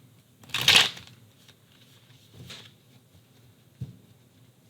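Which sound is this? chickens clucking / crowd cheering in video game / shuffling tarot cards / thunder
shuffling tarot cards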